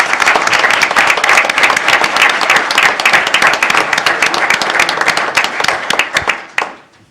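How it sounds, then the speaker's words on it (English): A room full of attendees at a city council meeting applauds loudly and continuously, the clapping holding strong before tapering off and fading out near the end. "Let's give him one more round of applause."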